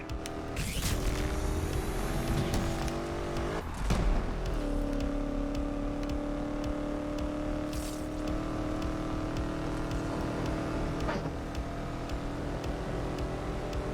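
A car drives hard in the video game Need for Speed Unbound, its engine droning steadily with shifts in pitch as it accelerates, loud and close throughout, with no talking.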